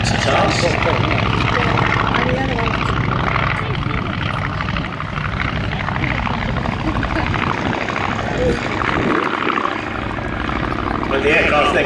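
A vintage Westland Lysander aircraft flies at an airshow, its propeller engine making a loud, continuous droning roar throughout, with a narrator's voice talking over it.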